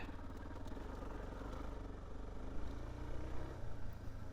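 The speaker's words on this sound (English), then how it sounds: "There's just some other harmonic resonance thing that goes on, and it sounds like the engine's about to grenade." A dual-sport motorcycle engine idles close by, with a deep, throbbing rumble and a buzzy, rattling harmonic resonance that swells slightly toward the end.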